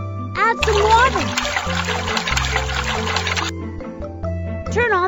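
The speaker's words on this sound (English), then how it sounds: "Add some water." Water poured into a toy concrete mixer truck makes a short splashing pour lasting about three seconds, set over bright synthetic toy-style music and sound effects.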